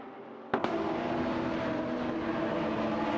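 Infiniti G35 GT2 and Lamborghini Gallardo GT3 race cars in a video game roar in with a sudden onset, then hold a steady, fairly loud engine drone with tonal whine.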